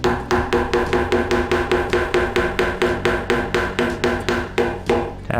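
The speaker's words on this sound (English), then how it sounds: "tap them in with a hammer" A hammer taps wooden keys into a live edge waterfall table: a close, steady run of about twenty sharp wooden knocks at an even quick rhythm, with no talking.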